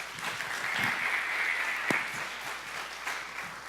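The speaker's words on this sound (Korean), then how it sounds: "박수로 모시겠습니다" A church congregation applauds to welcome a pastor at a Wednesday prayer meeting, with a steady, sustained clapping that fills the room at an even level for several seconds.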